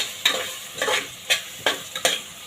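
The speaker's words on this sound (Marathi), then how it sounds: "हे सगळे मसाले पुन्हा आपण ह्या कांदा सोबत छान परतून घ्यायचे" Spices and onion are sautéed in a pan for a masoor pulao, with a soft sizzle under about six rhythmic, scraping spatula strokes, close up and with no voices.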